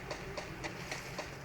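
A train in a battle royale video game rolls past with a steady, rhythmic clickety-clack, its evenly spaced beats riding over a continuous rumbling hum, moderately loud with no voices.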